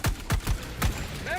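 Gunfire from Helldivers 2: four sharp shots in an uneven burst over about a second, loud and close, with a faint voice near the end.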